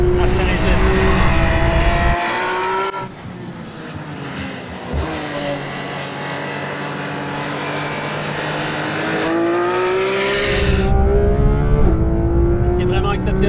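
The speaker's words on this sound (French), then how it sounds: "que d'entendre ce moteur à plein régime." A 2019 Porsche 911 GT3 RS engine howls at full revs, climbing sharply through the gears with rising pitch, loud and close, with someone talking at the start and end.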